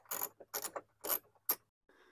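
A ratchet with a socket extension turns bumper screws on a 4th-gen 4Runner, giving four quick clicking bursts up close with no talk.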